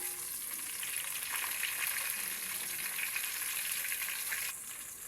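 Onions frying in a pan for onion pulagam, giving a steady close sizzle with occasional soft stirring, and no talk.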